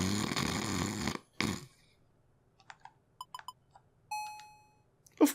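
Loud snoring-like breaths open the scene in an animated Alice in Wonderland story, two heavy rasping pulses followed by quiet scattered clicks, beeps and a brief tone, then a final short burst.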